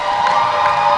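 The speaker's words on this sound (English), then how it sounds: "getting a huge round of applause from the crowd" A roller derby playoff crowd cheers and applauds for a skater returning to the track, a loud, steady, close wash of voices and clapping filling the whole moment.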